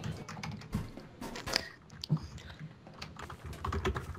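A computer keyboard is typed on in irregular bursts of soft, close clicks and taps with brief pauses between, and no voices.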